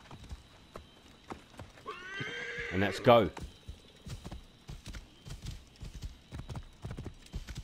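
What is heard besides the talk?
horse neighing and hooves in Assassin's Creed Origins video game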